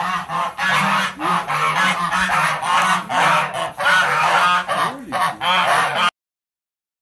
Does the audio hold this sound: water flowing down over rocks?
no